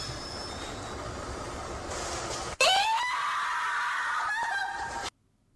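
A woman reporter screams loudly in a Japanese ghost-sighting clip, a shrill sustained cry with wavering pitch breaking in suddenly after a stretch of noisy background, then cutting off abruptly into near silence.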